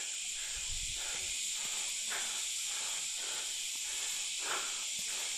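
Cicadas (kuliglig) drone loudly and continuously in hot sunshine outdoors, a dense hissing buzz that pulses slightly in rhythm and holds steady throughout, with no voices.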